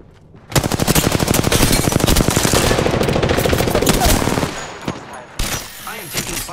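Rapid automatic gunfire from an Apex Legends match rattles loud and dense for about four seconds, then breaks into scattered shots and a short final burst.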